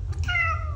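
A cat named Barry gives a single close, clear meow, rising then gently falling in pitch, lasting under a second.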